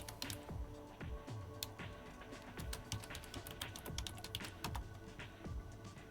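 Someone types a password on a computer keyboard while setting up a Raspberry Pi. The keys click quietly and close by in a steady stream of taps, with no talking.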